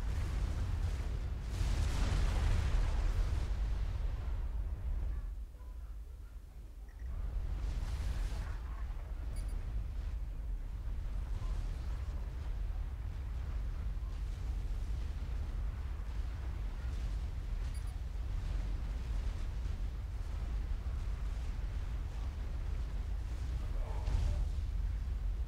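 Units fire and explosions boom in a Supreme Commander 2 battle, a dense, continuous low rumble of artillery with a few louder blasts early on and a brief lull, and no talking.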